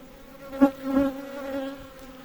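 Honey bees buzz around an open beehive during a nectar flow, a steady droning hum with a couple of louder swells as individual bees pass close, heard alone without voices.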